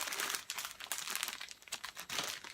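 Crinkly plastic packaging is handled and pulled open while unboxing curly hair extensions, a continuous close, soft rustling and crumpling with no talk.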